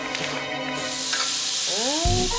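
Pork belly sizzles in a pan at a family grill party, a steady close frying hiss filling the background under a brief whistling tonal sound.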